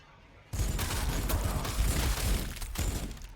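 A Warhammer 40,000: Sanctus Reach unit fires a shot, and a sudden loud blast erupts into a sustained roaring, crackling burst with shattering debris that lasts for several seconds.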